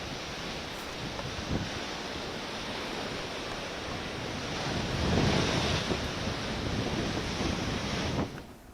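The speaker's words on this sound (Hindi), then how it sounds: "समुद्र में हाई टाइड की स्थिति है और वहाँ पर ऊंची ऊंची लहरें इस वक्त उठ रही हैं।" High-tide waves on the Mumbai coast during Cyclone Biparjoy, a continuous loud roar of breaking surf mixed with wind buffeting the microphone and swelling midway before easing.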